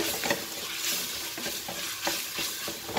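Peppers with homemade tomato paste sizzle in a pot as a spoon stirs in quick, regular scraping strokes, close and steady throughout with no talking.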